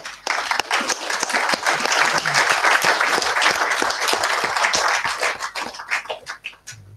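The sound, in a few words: audience applause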